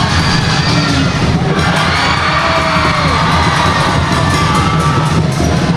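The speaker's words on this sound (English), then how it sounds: "We've got a raucous crowd here" A raucous crowd at a high school boys' basketball championship final, Holy Cross Crusaders home fans, cheers, yells and whoops loudly and continuously, with scattered shouts and bangs in a packed gym.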